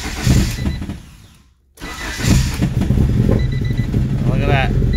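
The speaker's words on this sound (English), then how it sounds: "Let's see if we can get her to start." A Honda car fitted with a chipped P28 ECU cranks and fires up close by. The engine noise cuts out briefly, then settles into a loud, steady running note.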